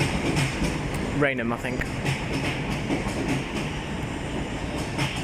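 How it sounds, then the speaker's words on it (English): A Thameslink train moves through London Bridge station as a steady, loud rumble of rolling wheels with faint clicks. Someone speaks briefly over it near the start. "There's a Thameslink service over there, makes its way towards"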